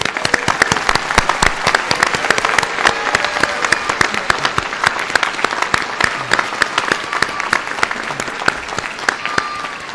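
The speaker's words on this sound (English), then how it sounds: "Let's give them a big round of applause." A large crowd gives sustained applause for graduates at a Brazosport College commencement ceremony, a continuous wash of many hands clapping with sharp individual claps standing out.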